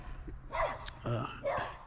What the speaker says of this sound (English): He's barking at a buzzard.